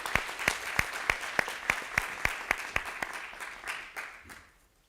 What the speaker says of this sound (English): Let's give Dr. Chen a round of applause.